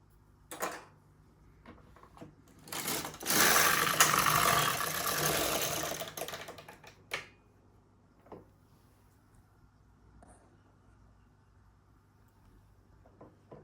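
An LK150 knitting machine working fair isle, its carriage giving a loud sliding rattle for a few seconds amid scattered clicks and clunks from the machine, with quieter handling noises after.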